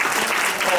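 Audience applause at a Ghanaian union women's conference in Toronto, a dense, steady burst of clapping from a crowd that lasts under a second.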